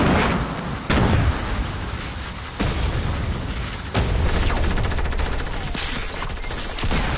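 Submachine gun fire in the video game Squad: loud, dense bursts of rapid automatic shots in close succession, several distinct volleys with booming impacts, filling the whole stretch with no talk.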